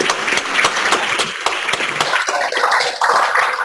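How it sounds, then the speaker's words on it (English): At a ministers conference in the Philippines, a congregation gives a warm round of applause: close, crackling handclaps that build, dip briefly and swell again over a few seconds. "can my family and Netherland give Jasper a round of applause?"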